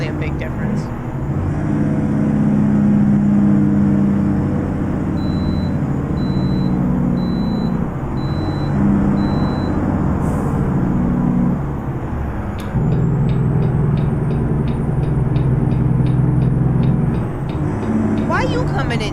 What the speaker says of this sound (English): It definitely sounds different than any other truck in the game, though.